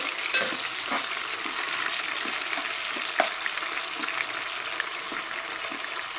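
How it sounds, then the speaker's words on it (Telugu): Mutton pieces frying in a pan, a steady close hiss and sizzle with scattered crackles and pops throughout, no talking over it. "లైట్ బ్రౌన్ కలర్ వచ్చేంత వరకు ఫ్రై చేసుకోవాలి"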